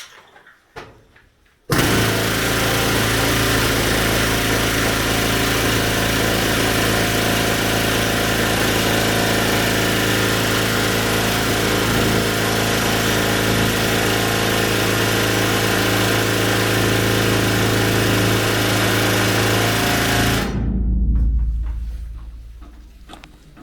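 Mining machine running in an underground gold mine 61 metres below ground starts abruptly and roars loudly and steadily for about twenty seconds, then cuts out, leaving quiet tunnel ambience.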